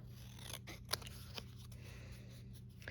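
Scissors cutting paper for a handmade Christmas card with a gnome and poinsettia: a few soft, crisp snips at close range, faint over a quiet room hum.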